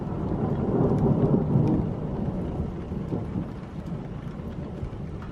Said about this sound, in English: but there's thunder, which is really cool.